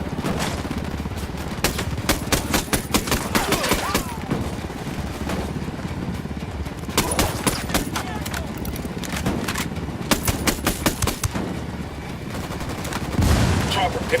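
Gunfire in Ghost Recon Wildlands as rebels clash with the cartel and a helicopter attacks: dense bursts of automatic fire and scattered shots crackle over a constant rumbling bed, loud and sustained.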